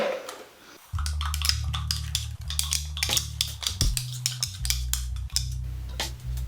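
Ingredients being stirred with puree in a bowl for Korean mushroom sliders, a steady run of close scrapes and clinks of a utensil against the bowl over a continuous low hum.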